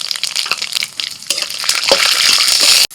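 Peanuts crackle and sizzle as they hit a little hot white oil in a kadai with dried red chillies and cumin seeds, a bright hissing fry that swells near the end and then cuts off abruptly.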